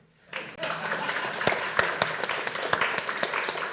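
Audience members at a vintage computer festival clap for one another after standing up, a dense patter of handclaps that begins abruptly and carries on steadily at moderate loudness with a few sharper individual claps standing out.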